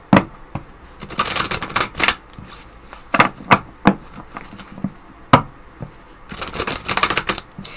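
Oracle cards are shuffled by hand in quick, close, papery riffles and taps that come in irregular bursts, with brief pauses between them and no talking.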